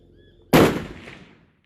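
A single 7mm Remington Ultra Mag rifle fires one loud, sharp report close by, followed by a rolling echo that fades over about a second.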